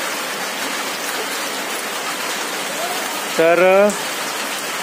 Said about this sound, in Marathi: पाऊस बघा किती पडता तो